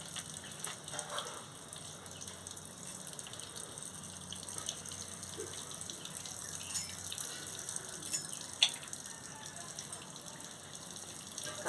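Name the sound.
water running while washing cut leaves and fish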